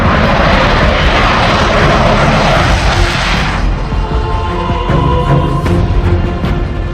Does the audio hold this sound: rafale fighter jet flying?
yes